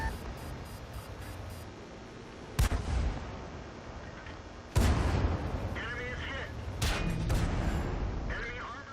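Tank cannon fire from a Ram II in the video game World of Tanks, with a few sharp, loud booms ringing out over a steady rumbling battle background, while a voice talks throughout.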